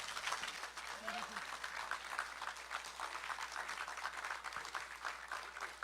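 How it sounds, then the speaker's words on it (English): Crowd applause for a guest at a live Caribbean radio broadcast event, a steady, fairly distant wash of clapping that lasts throughout with some voices mixed in. "Professor Cudjoe, can we give him a standing ovation, round of applause?"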